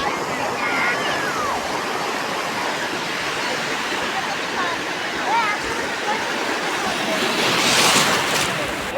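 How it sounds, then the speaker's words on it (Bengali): Sea waves break on the beach at Bakkhali in a continuous loud, rushing wash that swells toward the end, with voices faintly in the background. "হ্যাঁ, ঢেউ আসছে, ঢেউ"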